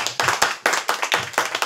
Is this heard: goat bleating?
no